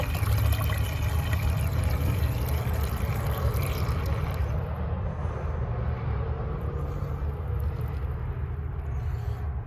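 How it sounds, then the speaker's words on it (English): Washer fluid concentrate is poured into the windshield washer reservoir of a 2016-2018 Toyota RAV4, a continuous close liquid gurgle and splash lasting nearly ten seconds that eases slightly toward the end. "Go ahead and pour the liquid in."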